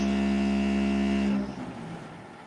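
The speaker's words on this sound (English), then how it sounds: "that's a built-in vibrator. So when we raise the bodies up, we hit a vibrator and the blacktop comes out." A built-in vibrator on a paving dump truck body, used to shake blacktop loose, drones with a loud steady hum. It stops abruptly partway through, leaving quieter background rumble.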